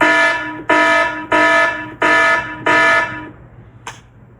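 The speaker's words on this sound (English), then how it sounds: "someone sound the alarm" A loud electronic alarm blares in four even, sustained blasts with short gaps between them, followed by a faint brief fifth burst near the end, heard alone with no voices.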